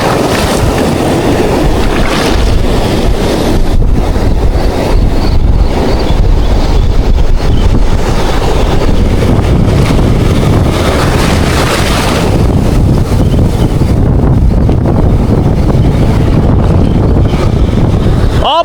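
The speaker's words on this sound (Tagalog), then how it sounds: "Malakas yung hangin. Mas mahangin pa kaysa sa inyo." Strong wind buffets the microphone with a loud, constant roar and rumbling gusts that barely let up.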